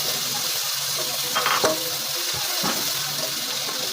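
Onion and garlic fry in hot oil for a dried-fish dish, a steady soft sizzle with a few brief scraping and stirring knocks.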